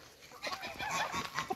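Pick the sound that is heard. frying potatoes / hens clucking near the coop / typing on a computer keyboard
hens clucking near the coop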